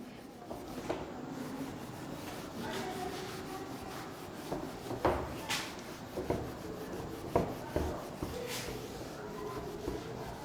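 Eraser or cloth rubbing across a classroom board to clear writing, a run of soft scrubbing strokes at close range, with a few sharper rasping swipes in the middle.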